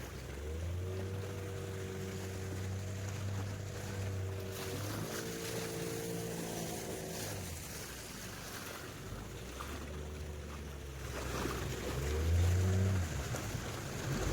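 Sea waves wash steadily at Honeymoon Beach in South Goa, beneath the droning hum of a nearby boat engine that rises and falls throughout.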